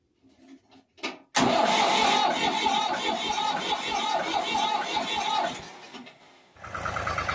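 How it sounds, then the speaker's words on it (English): A few faint clicks, then a Ford 4000 tractor's diesel engine cranks and catches with a loud roar after injection pump work, runs roughly, briefly drops off, and picks up again. "see if we can start the tractor now"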